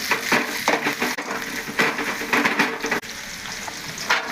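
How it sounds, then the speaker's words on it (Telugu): Onions fry in a hot pan for fried rice, making a loud, continuous crackling sizzle that swells in rhythmic bursts as they are stirred. No one speaks. "ఆనియన్స్ వేసుకున్నా కొద్దిగా ఆనియన్స్"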